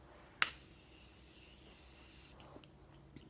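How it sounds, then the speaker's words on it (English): Setting spray makeup mist bursts out with a sharp click and a long breathy hiss that fades over about two seconds, close and alone, followed by faint handling taps. "before I start blending, I like to spray my setting spray"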